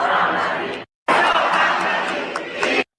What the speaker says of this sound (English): They're cheering for a foreign country.